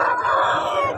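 Roosters at a rural poultry market, with a loud, close crowing call filling the whole moment.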